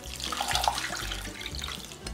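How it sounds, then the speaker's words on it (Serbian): Water with vanilla extract pours steadily into a cooking pot of chestnuts and sugar, a close, continuous splashing gush that lasts the whole time. "I vodu u koju sam već stavio malo vanilije ekstrakta."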